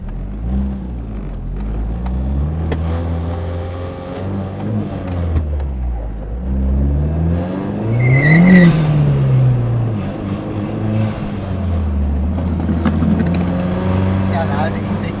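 A VW Golf Mk2 with a swapped 1.8T engine revs hard, its loud intake roaring over the exhaust as the pitch climbs and falls through several close pulls, with voices talking over it.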